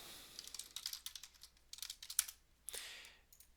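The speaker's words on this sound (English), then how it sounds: "I'm going to type out the full Hello World program that we'll be using in this video" Someone types code on a computer keyboard, a quiet close patter of bursts of keystrokes with short pauses between them, no speech.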